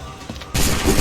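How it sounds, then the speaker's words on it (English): A ragged musket volley rings out in Assassin's Creed 3, a sudden loud broadband burst of massed gunfire arriving halfway through and sustaining, with softer rumbling before it. "Fire now!"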